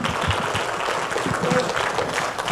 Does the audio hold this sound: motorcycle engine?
no